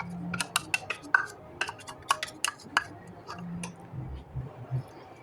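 Spoon clinking and scraping against a bowl in quick, irregular taps as chicken filling is stirred together with cheesy sauce, close and fairly clear, with a low background hum.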